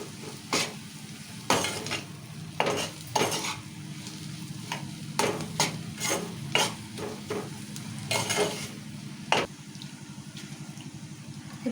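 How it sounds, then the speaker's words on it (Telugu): Chickpea leaf and chana dal curry stirred in a pan after chilli powder and salt go in, a spoon scraping in repeated uneven strokes over a soft, steady sizzle, fairly close, with no talking. "కలుపుకుందాం ఒకసారి."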